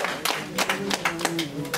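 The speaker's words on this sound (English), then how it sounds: "A round of applause for her again, please." Scattered audience clapping at a women's conference in Dallas, a handful of distinct claps in an uneven rhythm under a speaking voice.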